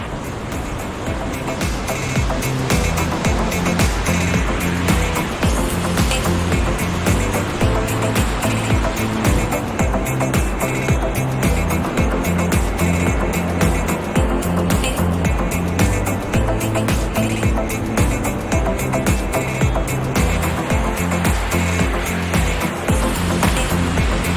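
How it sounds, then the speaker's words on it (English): Roaring water of a mountain stream high above Vail on a rocky scree slope, a loud, steady broadband rush filling the whole stretch without pause. "Just listen to that water roar."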